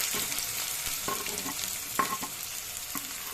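Onion hits a hot pan for leftover-roti poha and fries with a steady, moderate sizzle, broken by several sharp spatula taps and scrapes against the pan.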